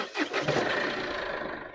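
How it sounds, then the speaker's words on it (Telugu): A 2016 Mahindra KUV100 K8 with a D75 engine starting on a single crank: a brief starter whir, then the engine catches and settles into a steady idle, moderately quiet and close. "సింగిల్ సెల్ఫ్లో బండి స్టార్ట్ అవుతుంది సార్"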